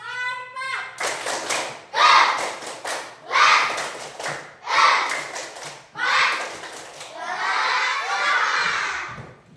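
A class of fourth-grade schoolchildren does a rhythmic clapping routine, with loud bursts of group claps and shouted chants repeating in regular waves, ending in a longer cheer.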